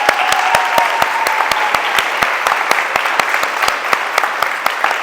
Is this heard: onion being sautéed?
no